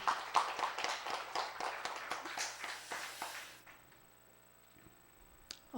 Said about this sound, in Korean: 이 부부에게 우리 박수 한번 올려드릴까요?